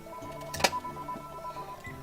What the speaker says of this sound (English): Nope, don't need that ringing.